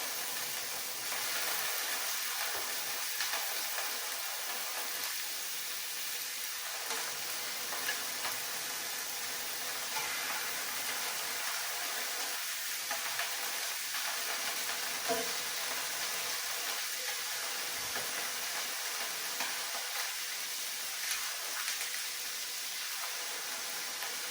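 Seafood for a keto scampi sizzles and fries in a pan, a steady hissing crackle that runs continuously and fairly quietly with occasional small clinks, no talking.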